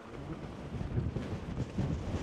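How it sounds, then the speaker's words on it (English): Wind buffets the microphone while an electric mountain bike, a Veteran Lynx, is ridden off-road on a windy day, giving a steady low rumbling roar with gusty swells and no talk. "it is windy today, which makes it extra challenging, dangerous, whatever you pick."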